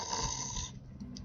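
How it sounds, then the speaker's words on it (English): Snoring in a Minecraft-style game, a single brief steady rasping drone, loud and close with no talk. "Anyway, snoring."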